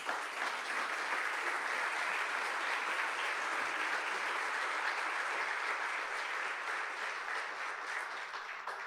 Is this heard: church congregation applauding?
yes